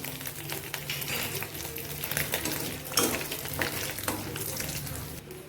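Bay leaf and fenugreek seeds sizzle in hot oil in a pan for a pointed gourd and paneer dish: steady crackling fry close up, with occasional stirring clinks and scrapes.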